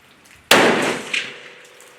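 A single sharp, loud gunshot from a CVA Apex rifle loaded with 55 grains, a sudden blast followed by a rolling decay and a faint echo off an outdoor hillside.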